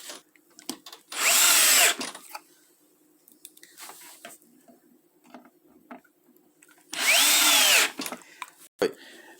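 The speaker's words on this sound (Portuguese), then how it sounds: "Usamos os parafusos de fixação, conforme vocês verão agora." A power drill drives fixing screws into a fixed drawer unit during assembly, two loud whirring bursts about six seconds apart, with light handling clicks between them.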